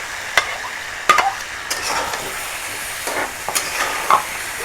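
Whole hog plums drop into a hot pan with cinnamon sticks and white cardamom, giving a few sharp knocks and splashes over a soft, steady sizzle and the scrape of stirring.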